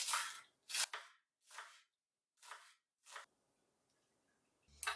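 Knife slicing green onions on a cutting board, six crisp separate cuts spaced unevenly, each a short close crunchy chop with quiet gaps between.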